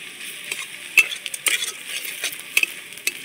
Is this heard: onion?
yes